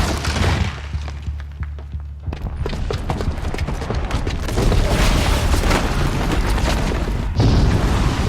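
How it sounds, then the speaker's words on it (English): A booby-trapped bomb goes off in Horizon Zero Dawn, a loud sustained rumble of heavy booms and thuds with crashing debris that swells and keeps roaring for several seconds. "the booby trap on the bomb downstairs is gonna get set off"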